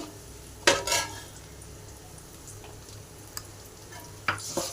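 Carrots fry in a pan for restaurant-style gobi fried rice, giving a low constant sizzle broken by a couple of sharp metallic spatula clanks and a faint tap in between; no talking.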